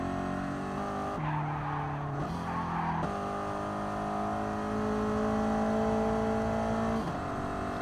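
A race car in a racing video game is shifted down into first gear for engine braking, the engine note jumping and holding at high revs through a loud, sustained whine with tire squeal, continuous throughout.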